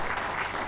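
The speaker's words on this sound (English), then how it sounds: "I think we should clap for people like that." Audience applause during the Zambian president's address to the nation, a dense, steady burst of clapping heard briefly and fairly loud.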